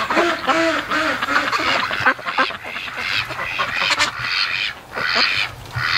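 A flock of breeding ducks pushing through deep winter snow keeps up a busy chorus of nearby quacks, rapid overlapping calls with brief pauses between bursts.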